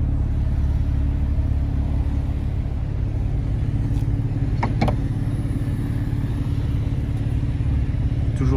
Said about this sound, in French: dès qu'on active le mode sport, on a les valves qui s'ouvrent au niveau de l'échappement